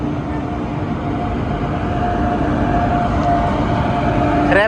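The Secunderabad–Repalle Express rolls past close by in light rain, a loud, sustained rumble of wheels and carriages that holds steady for several seconds.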